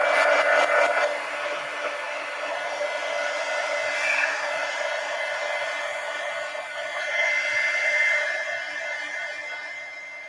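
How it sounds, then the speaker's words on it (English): A heat gun blows steadily over a mixed media collage made in an abandoned book, giving a continuous close whooshing drone that holds for about ten seconds with no talking. "Let me get my heat gun here"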